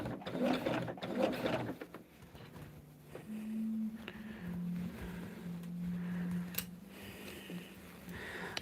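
A domestic sewing machine stitches a star table runner, its motor giving a steady mechanical whir with a ticking rhythm that runs in stretches over the second half, after a few clattery handling noises.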